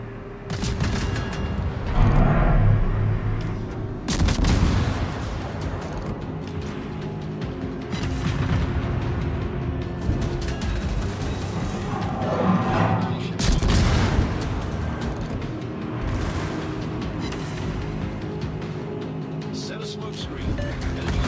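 Naval guns on warships firing in World of Warships, heavy booming salvos recurring every few seconds over a constant engine and sea rumble, with a voice talking throughout.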